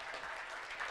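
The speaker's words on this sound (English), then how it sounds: "Yeah, go ahead, clap." Audience applause at a coding conference talk, a brief, soft wash of clapping from a room of people, fairly faint and distant.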